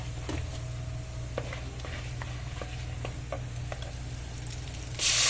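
Millet upma with peanuts and cashews stirred in a pan: steady low sizzling with a series of short spoon scrapes at an irregular rhythm, close and moderately loud, ending in a brief louder hiss.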